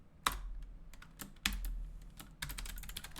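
Typing code on a computer keyboard: clusters of crisp key clicks, quiet and close, with several sharper louder strikes, probably the spacebar or enter, spaced out between faster bursts. No talking.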